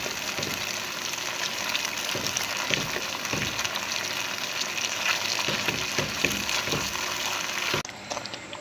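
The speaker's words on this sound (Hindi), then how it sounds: "इसमें चम्मच में मसलसल चला रही हूँ" A spoon stirring mutton nihari in a pot, with steady sizzling and bubbling under repeated scraping and clinking strokes at close range.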